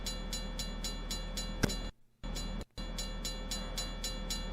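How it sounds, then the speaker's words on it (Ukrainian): A locomotive rolls slowly toward a railway level crossing at dusk, a steady loud rumble with regular rhythmic clatter, interrupted by two brief near-silent gaps, with no voices. "локомотив вже зовсім близько під'їхав"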